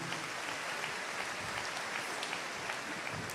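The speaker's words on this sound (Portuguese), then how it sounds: "Uma salva de palmas." A church congregation claps in steady, dense applause for a few seconds, moderately loud with a slightly distant, roomy character and no voices on top.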